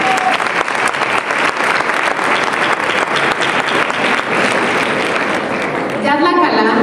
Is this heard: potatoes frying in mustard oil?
no